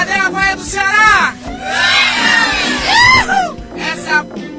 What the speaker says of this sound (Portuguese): Cadê a vaia do Ceará?